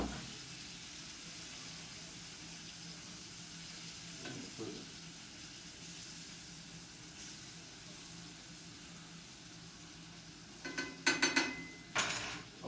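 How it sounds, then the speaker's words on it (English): Shrimp sautéing in a pan, a soft continuous sizzle heard close but fairly quiet, with a brief burst of louder clattering or running water near the end. "And you're going to just saute them."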